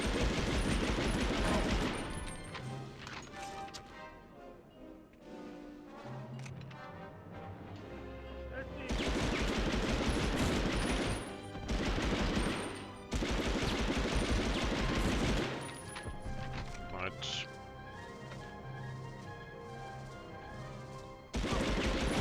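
Submachine gun fire from an MP in the video game Medal of Honor Underground, with long loud bursts alternating with quieter stretches and a voice talking between them.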